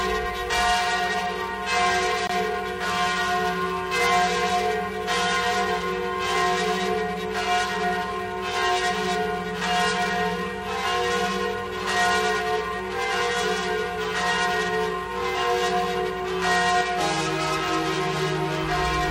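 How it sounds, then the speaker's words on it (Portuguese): Church bells peal steadily from church towers, calling the faithful to Regina Coeli prayer in Rio de Janeiro; repeated loud, even strokes ring on with rich overlapping tones and no talking. "Os sinos tocam em nossas torres para nos chamar à oração."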